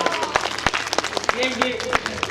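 Audience applause at a comedy poetry recital in Rewa: a steady wash of clapping with sharp individual claps standing out, mixed with a speaking voice.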